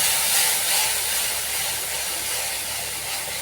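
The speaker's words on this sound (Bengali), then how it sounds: "কড়াইতে তেল দিয়েছি, তেল গরম হয়ে গেছে। এবার আমি মশলাটা দিয়ে কষাবো।" Onion, ginger, garlic and tomato masala paste sizzling in hot oil in a wok, a steady close broadband hiss that persists without pause.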